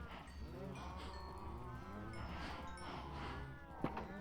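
Cows mooing in Minecraft on a small wheat farm, several drawn-out low calls overlapping one after another at steady loudness, with game ambience underneath.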